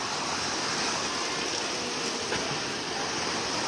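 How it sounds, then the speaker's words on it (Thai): Heavy rain pours down in a continuous, dense hiss that stays loud and even from start to finish, with no voices over it. "ฝนตกพี่น้อง"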